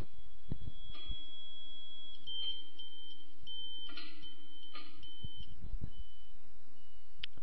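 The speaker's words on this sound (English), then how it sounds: "Move the elevation adjustment bolt until you hear the beeper tone drop." Satellite pointing-tool beeper on a KA-SAT terminal, heard as an elevation adjustment bolt is turned: a thin steady tone that rises and breaks off, with faint clicks and handling knocks underneath.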